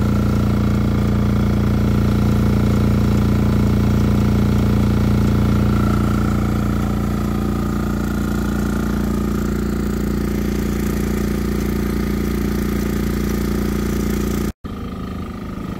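A MEP 831A military generator engine runs steadily under test load, a loud, close, continuous drone that eases slightly partway through before cutting off briefly near the end and resuming.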